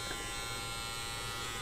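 A Syska Beard Pro HT200U beard trimmer hums steadily at close range, a continuous even electric buzz with no change in speed and no talking.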